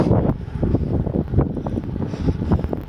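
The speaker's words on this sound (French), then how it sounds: "Vent de face." Strong headwind on a cyclist riding along a major national highway in Morocco: loud, gusty buffeting rumble against the microphone, continuous and close, with no talking.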